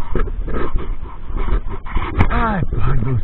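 Dog whimpering with a few rising whines, close by, heard under steady engine or vehicle noise and people talking.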